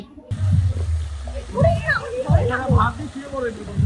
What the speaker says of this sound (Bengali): এদিকে দেখো পুলে সবাই নেমে গেছে